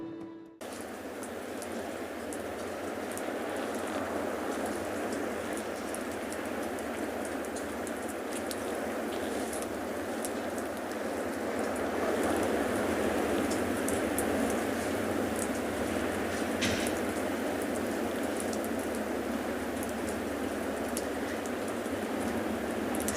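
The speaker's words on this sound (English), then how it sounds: "So you can probably just hear that little drizzle." A light drizzle falls steadily at an outdoor penguin beach, an even, continuous hiss of rain that holds at a constant level for the whole stretch with no speech.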